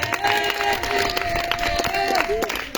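A church congregation at a prayer and spiritual combat revival night in Grand-Bassam cheers and shouts in acclamation of Jesus Christ, a dense crowd roar with a voice speaking over it.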